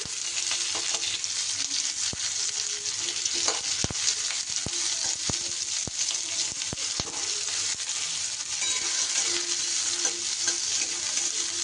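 Onion, garlic and green chillies frying in oil and stirred with a spatula, a continuous close sizzle broken by repeated scraping taps of the spatula against the pan.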